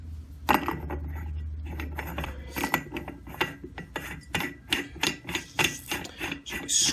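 A piece of hardened steel dropped into an outboard puller tool during a 1971 Mercury 500 powerhead teardown, giving a sharp metallic clank followed by a run of close, light clinks and taps of metal on metal.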